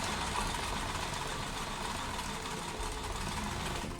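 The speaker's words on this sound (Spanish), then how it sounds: "pisamos nuestro reóstato y comenzamos a hacer la puntada al lado de la puntada recta" Domestic sewing machine stitching a zigzag beside a straight seam with the foot pedal pressed, a steady continuous mechanical whir held at even volume throughout, no talking.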